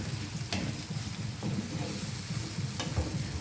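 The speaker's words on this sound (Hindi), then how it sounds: "तो बस इन सारी चीज़ों को अच्छे से मैं मिक्स करूँगी।" Shakshuka ingredients being stirred and mixed in a frying pan, steady sizzling under occasional scraping strokes of a spoon against the pan, close and continuous.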